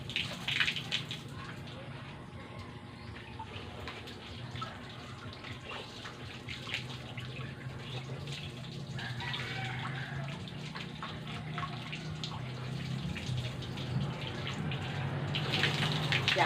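Water runs from a hose used for showering, a steady soft splashing gush that slowly grows louder, with a few faint voices in the background.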